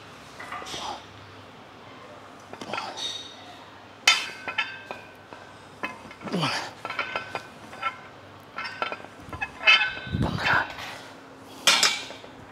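An old metal weight rod clinks and knocks as it is handled in a gym, making irregular metallic clanks and taps of varying loudness with people talking throughout.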